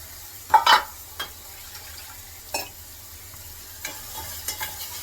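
An onion-greens paste is sautéed in a pan, with a few scraping stirs and a faint steady sizzle in the background and no voices.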